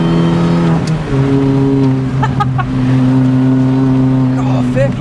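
A supercharged Mini Cooper S R53 revs hard on a track, its engine note a loud, steady rising drone that climbs through the gears, with someone talking over it from inside the car.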